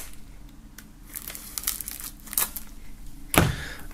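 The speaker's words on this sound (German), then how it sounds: "nachdem dies noch in Folie ist, werden wir das Ganze mal aus der Folie holen. So, einmal hier einschneiden." Plastic foil wrap being cut and peeled off a music album in a jewel case, close crinkling and crackling in short bursts ending in a sharp tearing rip, with no talking.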